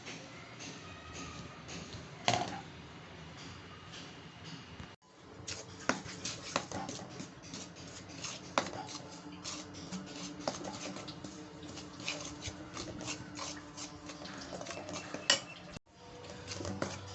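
Parboiled rice flour is dry roasted in a kadai, heard as faint, continuous scraping and light metal clinks of a spoon against the pan, with no speech.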